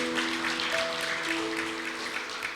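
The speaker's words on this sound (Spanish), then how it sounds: "Démosle un aplauso a nuestro Dios." A church congregation applauds during a service, a dense and steady wash of clapping from many hands, heard at moderate distance with sustained keyboard tones beneath it.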